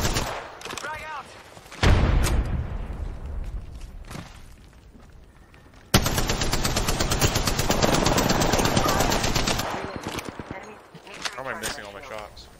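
Rapid automatic gunfire bursts in the Apex Legends battle royale game, loud and dense, with a long continuous stretch of fast shots midway, mixed with game effects and a player talking.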